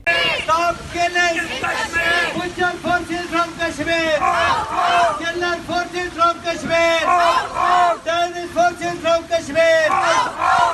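Kashmiri protesters in a New York street chant slogans in loud, rhythmic call-and-response bursts, many voices shouting together in repeated phrases with brief pauses between lines.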